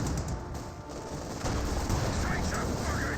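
Mortar shells landing in Company of Heroes 2, several dull explosive hits mixed into continuous battle noise of gunfire, with a voice talking over the top.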